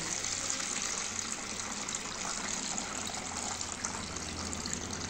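Water being poured off and drained from a batch of small tomatoes makes a steady, continuous gushing splash that stays at an even loudness throughout, with no talking.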